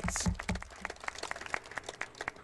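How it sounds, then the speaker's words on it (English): Audience applause during a senator's remarks on organ donation legislation, a fairly sparse room of clapping hands with distinct individual claps, moderately quiet and irregular. "absolutely, round of applause"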